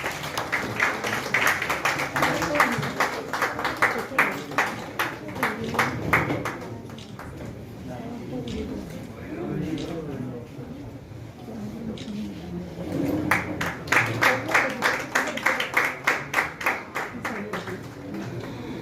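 Clapping from an audience at a commerce teachers award ceremony in Kerala, rising in rhythmic bursts near the start and again toward the end, with a lull of murmuring and talk between.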